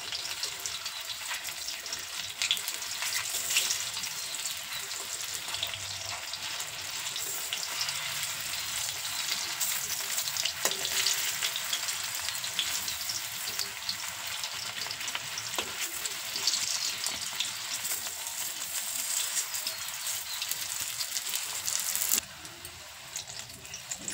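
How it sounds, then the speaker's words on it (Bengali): Jackfruit kofta balls frying in hot oil in a wok over a medium gas flame: a long, even, bubbling sizzle with occasional turning and stirring clinks, close and steady. "আর গ্যাসের ফ্লেমটাকে মিডিয়ামে রেখে উল্টে পাল্টে খুব ভালো করে ভেজে নেব।"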